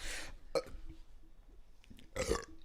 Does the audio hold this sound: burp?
yes